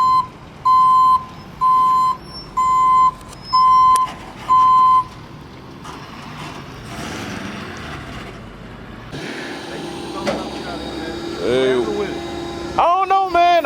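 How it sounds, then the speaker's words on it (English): A tow truck backs up with five loud, evenly spaced electronic reversing beeps, followed by engine rumble and mechanical noise as it arrives to pick up a broken-down Dodge Daytona, with people talking nearby. "Oh, look at there, a beautiful tow truck man shows up."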